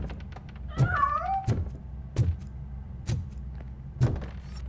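A cat meows in the video game RoboCop: Rogue City, one clear rising-and-falling call near the start, among soft thuds and faint ambient background noise; no one speaks.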